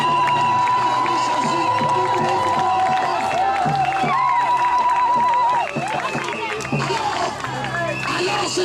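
A church congregation cheers and shouts praise for Jesus, a loud, continuous crowd roar with whoops and voices all through, easing slightly near the end.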